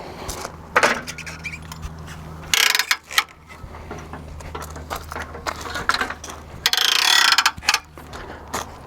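A ratcheting bike rack clicks in rapid bursts as a BMX bike with 20-inch wheels is strapped down, with loud ratchet runs, metallic clanks and rattles close by and no talk.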